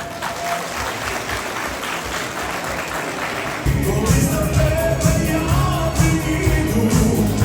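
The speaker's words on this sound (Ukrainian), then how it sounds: "Оплески!" Concert hall audience breaking into applause for young dancers at a Ukrainian concert in Prague, a dense sustained wash of clapping that swells louder midway, with some cheering.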